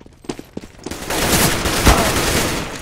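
A few scattered shots in a Counter-Strike match give way to a dense, loud barrage of overlapping gunfire that fills the rest of the moment.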